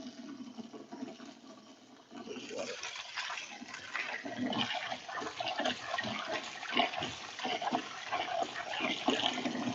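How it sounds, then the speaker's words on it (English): Dirty starchy water from washed craft noodles is poured away and fresh water runs in, a rushing, splashing flow that grows louder partway through, with a voice heard faintly. "I'm just gonna throw that dirty water away and then wash it with the new."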